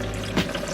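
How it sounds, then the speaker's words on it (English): Water poured into a pot of simmering kimchi jjigae, a brief close splash of liquid lasting under a second. "I'm also gonna add a little bit of water so that this can cook down a little bit."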